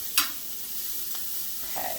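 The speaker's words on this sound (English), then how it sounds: "I'm just going to kind of stir these, let them kind of cook for a few minutes till they start to kind of brown or get crispy" Sausages stirred in a pan on a hotel stove, with a sharp utensil scrape near the start and a soft, steady sizzle of frying underneath, a second faint scrape later; no talking.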